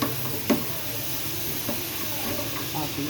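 Milk poured into hot caramel in a pan gives a steady hissing sizzle, with a sharp knock near the start and light stirring taps afterward.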